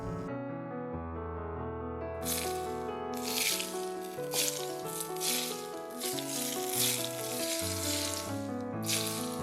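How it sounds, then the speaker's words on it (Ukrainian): Hot oil poured over shredded carrot dressed with vinegar, garlic, salt, sugar and coriander for Korean-style carrots crackles in rough, uneven sizzling bursts after a brief quiet start, under steady background music. "Обережно вливаю гарячу олію."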